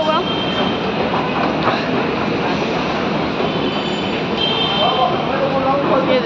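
Metro train at a metro station, a steady dense rumble with rail noise filling the whole stretch at fairly close range, continuous without pauses.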